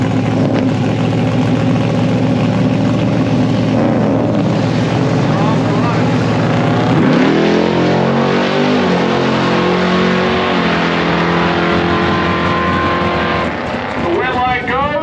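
Drag racing cars, including a station wagon, launch down the strip at an amateur drag event, with loud engine roar that rises and sweeps upward in pitch partway through, under continuous commentary.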